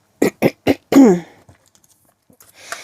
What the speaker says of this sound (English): just having to clear my throat a couple of times there